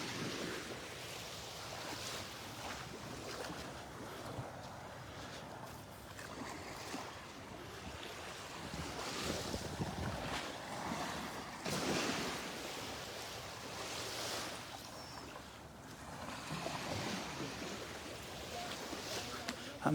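Ocean surf washes onto the beach at Naples Pier, a steady rushing roar of waves with swells rising and falling, mixed with wind buffeting the microphone throughout.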